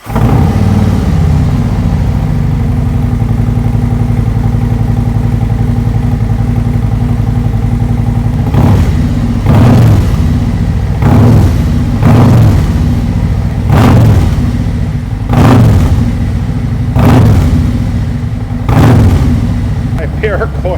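A 2024 Harley-Davidson Road Glide with Khrome Werks HP 4.5 mufflers idles loudly and steadily up close, then is blipped in a series of short, evenly spaced revs, with some talk in the background.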